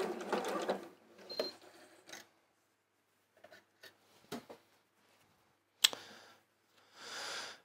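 Short bursts of a domestic sewing machine stitching a quilt block, separated by quiet gaps and light handling noises, close and faint, no speech.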